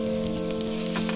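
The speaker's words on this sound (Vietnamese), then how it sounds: "Đợi mỡ nóng lên mình cho tỏi băm vào phi lên, phi đến khi tỏi vàng." Minced garlic fries in hot pork fat in a pot, giving a close, steady, crackling sizzle with no pauses and no voices.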